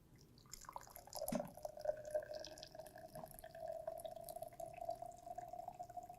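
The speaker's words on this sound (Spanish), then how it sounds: "Vertimos el agua caliente con mucho cuidado." Hot water poured carefully from a container into a plastic container, a steady trickling stream with a faint ringing tone, continuous and moderately close with no speech.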